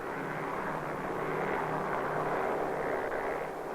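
A special recovery aircraft flying out of a Pacific base over Hawaii, snagging a parachuting camera capsule, its engine drone steady and loud throughout with no voices.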